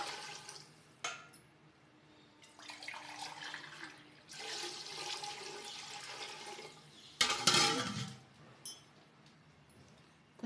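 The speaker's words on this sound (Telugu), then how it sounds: "4 గ్లాసులు నీళ్ళు పోసుకోవాలి" Glassfuls of water poured into a pot for rava kesari, a semolina temple sweet, heard as several separate gushing splashes with quiet gaps between them, fairly soft and close.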